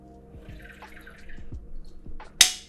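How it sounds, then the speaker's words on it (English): A quick sip of water, with soft close liquid and mouth sounds, a few low thumps, and a sharp click near the end. No one talks. "Really quick, a sip of water. Just quick little sip of water."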